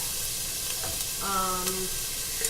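Onions sauté in butter in a pan, a constant soft sizzle just under a brief tonal voice-like sound midway, fairly quiet and steady.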